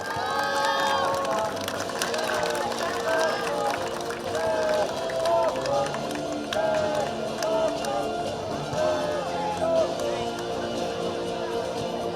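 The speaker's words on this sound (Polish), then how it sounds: "Dziękujemy za okrzyk, dziękujemy za emocje" A crowd of children at a youth sports tournament closing ceremony, with young players chanting a team shout and cheering together, loud and continuous with rhythmic voiced bursts throughout.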